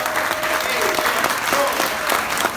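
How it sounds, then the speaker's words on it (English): Church congregation applauding students at a service, a dense, even wash of clapping from many hands in a reverberant room, sustained throughout with a voice faintly underneath. "Hey, would y'all stand up so we can applaud y'all?"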